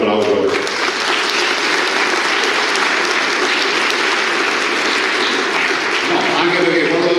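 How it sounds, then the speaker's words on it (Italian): Audience at a gathering of Veneto municipalities breaking into steady, full applause that holds loud and even throughout, with no pauses. "fate un applauso."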